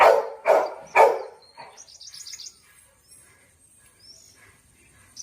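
Three loud barks up front, then a bird calls with a quick run of high chirps, followed by fainter scattered tweets in a quiet farm field.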